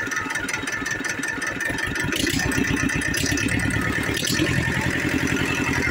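An original-engine 2005 TAFE 25 DI tractor diesel runs just after an easy self-start, with a close, steady rhythmic knocking chug and metallic rattle that grows slightly louder partway through.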